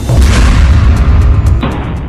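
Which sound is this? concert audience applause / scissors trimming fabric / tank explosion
tank explosion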